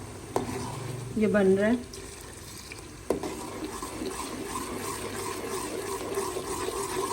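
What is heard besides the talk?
stirring and frying masala for goat trotters curry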